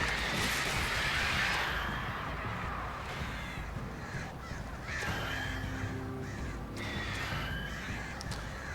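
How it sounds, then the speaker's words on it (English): Crows cawing repeatedly in the video game Alan Wake over a dense, noisy background with rumbling and whooshing, loud throughout with no talking. "The birds! The bird."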